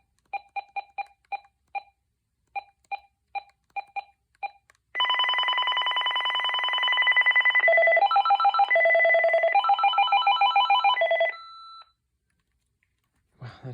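A cordless phone gives a string of short beeps, then rings with a loud continuous electronic warble that changes pitch several times before stopping abruptly, close and alone.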